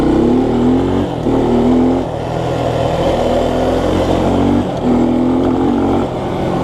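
A 1986 Honda ATC 200X three-wheeler, a 31-year-old barn find, roars loudly and steadily while being ridden, its engine note dipping briefly a few times between throttle pulls, close up and without speech.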